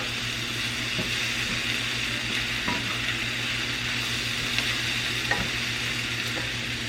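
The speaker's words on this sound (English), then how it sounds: "And the tomatoes. I'm just going to stir that in here." Tomatoes are stirred into a sizzling pan that also holds spinach, a steady close fry with a few soft scrapes and knocks of the utensil against the pan.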